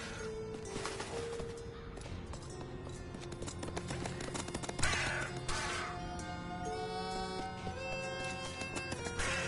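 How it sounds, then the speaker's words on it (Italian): A crow caws repeatedly in the video game Little Goody Two Shoes, sharp calls recurring over a dense, steady bed of game music and ambience, loud and close throughout. "Dove c'è il corvo?"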